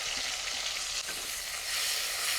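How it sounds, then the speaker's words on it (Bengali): Chopped onion sizzling in hot oil in a village-style kitchen, a steady close crackle and hiss with faint stirring, no voices. "এবারে তেলের মধ্যে কিছু পেঁয়াজ কুচি দিয়ে দেবো।"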